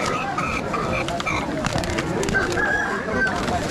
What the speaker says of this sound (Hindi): भाई साहब मुर्गा लड़ाई स्टार्ट हो चुकी है।